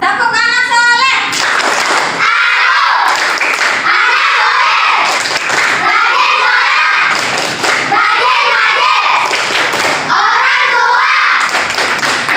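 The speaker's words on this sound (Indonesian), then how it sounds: "Tepuk tangan soleh." Children in a classroom clap their hands in a patterned rhythmic chant, bursts of clapping repeating in regular phrases, loud and close, with young voices joining in.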